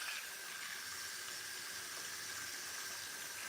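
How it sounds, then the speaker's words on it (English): Lukewarm water poured over fermenting fufu, a steady soft splashing hiss that runs evenly for several seconds, close and fairly quiet, with no talking over it. "Lukewarm water is what I'm pouring on top of it now."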